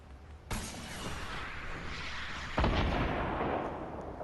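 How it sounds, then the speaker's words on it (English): Two sharp rocket blasts in the Fortnite battle royale game, the second louder than the first, each followed by a sustained roaring rumble. "So there are rockets being shot outside."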